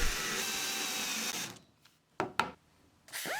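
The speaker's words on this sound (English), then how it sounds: "So I'm going to drill a hole in the back" A small drill whirs steadily for over a second through the back of a plastic phone case, then stops; a few short knocks and brief bursts of drilling follow.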